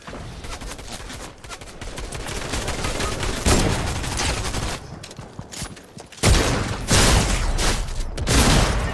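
Video game gunfire in a heavy-weapons shootout, with dense, continuous bursts of rapid shots and booms, loud and close, briefly letting up before a harder burst resumes.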